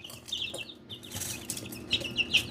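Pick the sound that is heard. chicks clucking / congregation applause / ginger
chicks clucking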